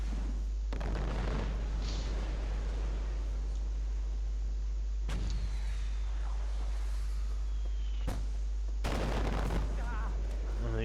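Mortar rounds burst in the shooter game Far Cry 4 as several sharp, booming blasts strike at irregular intervals over a constant low hum and scattered battlefield noise.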